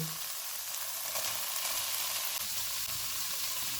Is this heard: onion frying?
yes